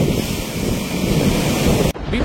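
Sea waves and gusting wind batter the Karachi coast during Cyclone Biparjoy, a steady roaring wash with microphone buffeting that briefly cuts out near the end.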